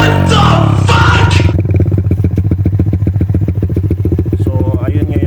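Suzuki Raider 150 Fi motorcycle engine revving loud and close, a sharp high rev burst at first, then dropping to a steady rapid pulsing idle.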